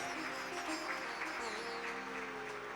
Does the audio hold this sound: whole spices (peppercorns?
no